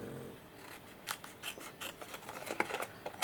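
Scissors cutting around a paper tag, quiet close snips and crisp rustles repeating irregularly at a soft level.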